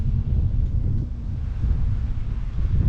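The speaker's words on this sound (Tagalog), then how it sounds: "Grabe yung hangin ngayon." Strong wind buffets the microphone continuously, a heavy low rumble with gusting swells throughout and no voices.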